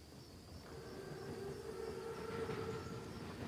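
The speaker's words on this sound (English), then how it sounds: "Train's right on time." A German armored train (Panzerzug) approaches in the Call of Duty: WWII video game, a faint distant rumble with a thin, sustained whistle-like tone rising over it.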